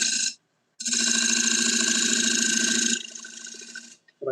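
A wood lathe spins a mystery wood blank while a gouge cuts, making a steady buzzing, rasping whine that breaks off briefly, then continues and softens before stopping.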